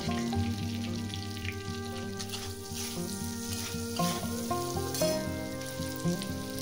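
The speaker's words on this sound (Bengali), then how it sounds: "আলু নরম হয়ে আসা পর্যন্ত ঢাকা দিয়ে ভেজে নিতে হবে" Potatoes seasoned with salt and turmeric fry in oil, giving a continuous crackling sizzle. A steady tonal hum runs underneath, and no one speaks.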